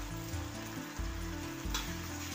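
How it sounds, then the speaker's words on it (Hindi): Garlic, chili, ginger and whole garam masala paste fries in a pan with a steady close sizzle, a few stirring scrapes breaking through, and no talking. "और हम इसे अच्छे से भून लेंगे।"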